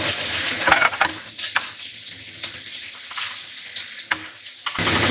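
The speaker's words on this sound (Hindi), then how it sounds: "नमक को बस थोड़ा सा भूनना है हमने" Garlic and salt fry in oil for a vegetable samosa filling, a close, bright sizzle with several sharp scrapes and taps of a spoon stirring the pan.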